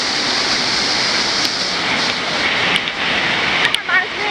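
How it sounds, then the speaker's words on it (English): Dry Falls in Nantahala National Forest roars as a steady, loud, broadband rush of falling water, continuous and close, with a few brief sharper splashes near the end. "That's what you call a waterfall."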